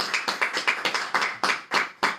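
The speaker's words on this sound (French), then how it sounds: "On applaudit le Seigneur." Church congregation claps together in a steady rhythmic beat, about a dozen sharp, distinct claps in quick succession, close and clear with no talking.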